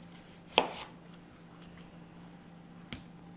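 A knife strikes a cutting board while potatoes are cut into wedges, giving one loud chop and a fainter later tap in an otherwise quiet kitchen.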